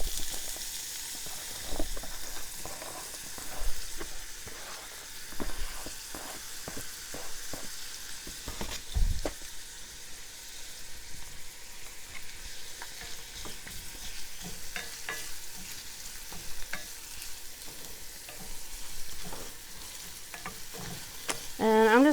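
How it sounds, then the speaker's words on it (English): Garlic and onions sauté in a hot pan with a steady, close sizzle, broken throughout by repeated scraping and stirring strokes, with no one talking. "Our pan's hot, so we're going to add our garlic and onions."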